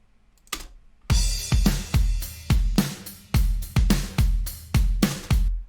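A recorded snare drum, layered with a lower-pitched sample for extra low end, strikes about ten punchy hits in a steady pattern after a softer lead-in hit, loud and close with no voices.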